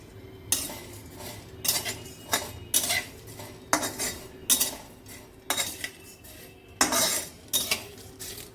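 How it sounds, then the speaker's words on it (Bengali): Fennel seeds, black peppercorns and dry red chillies roast in a dry pan, with a spoon scraping and clinking against the metal in about nine rhythmic strokes over a quiet, faint background, and no voices. "এবার এটা হালকা করে রোস্ট করব"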